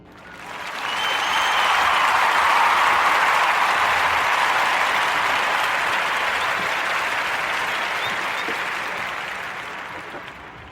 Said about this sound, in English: join me in giving these brothers a warm narrative podcast round of applause.